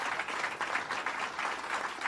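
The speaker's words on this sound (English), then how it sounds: "So let's give them a round of applause." A crowd at a governor's announcement in Suffolk County applauds state legislators, producing a steady, moderately distant patter of many hands clapping throughout.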